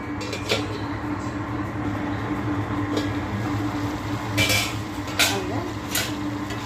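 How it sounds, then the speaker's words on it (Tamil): A lid is set over a pan of ivy gourd stir-fry, giving a few light metallic clinks and knocks against a steady background hum. "லைட்டாக ஒரு மூடி போட்டு மூடிடுவோம்"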